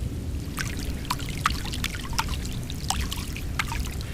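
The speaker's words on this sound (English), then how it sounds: "The moment their feet touched the ground, the dripping sound returned." Water drips in quick, irregular plinks over a low, steady background rumble, with the drops falling close and clear, several per second.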